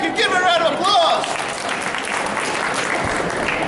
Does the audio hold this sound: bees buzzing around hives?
no